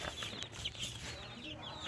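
A plump hen clucks in short, soft bursts at close range, with low background noise and faint murmuring and no clear speech.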